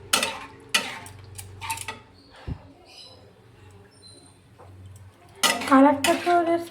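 Tomatoes for begun khashi cooking down in a pan, heard as intermittent clinks and scrapes of a utensil against metal, with louder bursts of stirring at the start and end and quieter kitchen noise between.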